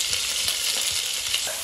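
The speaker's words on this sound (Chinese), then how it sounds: "再翻个面啊，洋葱再煎一下" Onions pan-fry in a home kitchen with a bright, steady sizzle and faint stirring scrapes, close and continuous, with no talking.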